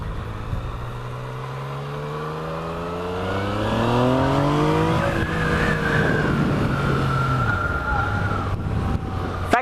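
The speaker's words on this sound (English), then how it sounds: "Factory engine noise isn't too bad. It's got a nice sort of triple growl to it." A Yamaha MT-09 (FZ-09) motorcycle with a factory exhaust revs its triple engine in a rising growl that climbs steadily in pitch, then holds and drops back, loud and close.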